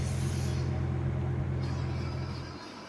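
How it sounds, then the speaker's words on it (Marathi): A car pulled over to park before an off-road outing gives a steady, close, low engine rumble that drops away sharply near the end as the engine quiets. "इथेच आपण गाडी लावूया."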